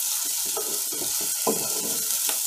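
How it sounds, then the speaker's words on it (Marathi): Finely chopped tomato softens in a hot pan for a sprouted mixed-bean usal, under a steady hiss of sizzling with soft stirring scrapes and a few light knocks of a spoon against the pan, close by. "1 टोमॅटो बारीक चिरलेला संपूर्ण टाकून घेणार आहे, तो पण छान असं मऊ होईपर्यंत परतायचं आहे"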